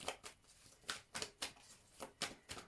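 Tarot cards are shuffled in a quiet room, giving about ten crisp riffling bursts in a steady, rapid rhythm, close and soft, with no voice over them.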